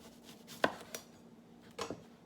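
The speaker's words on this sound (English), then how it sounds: "I'm going to cut the stem off" A knife slicing the stem off an onion on a cutting board: two quiet, close chopping thuds with a light scrape between them, otherwise near silence.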